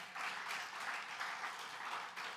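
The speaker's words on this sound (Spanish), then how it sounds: "Denle un aplauso al Señor," A church congregation applauds during a live service, a faint, steady wash of many hands clapping for a couple of seconds.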